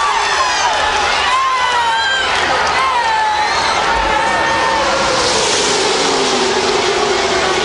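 Around 170,000 spectators roar at the 2000 Winston 500 NASCAR race, a loud, continuous crowd din blended with the whine of race engines sweeping past, with some voices audible in the mix.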